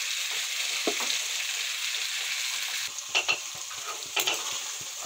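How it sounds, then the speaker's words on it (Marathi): Broad beans and peas fry in plenty of oil in a covered pan on low heat. The sizzle is a steady close hiss with occasional soft crackles and stirring knocks, and there is no talk. "झाकून कमी पावरवर फ्राय होऊ देऊ।"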